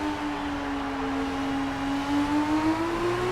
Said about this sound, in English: listen to the car, not over-rev the engine in some of these corners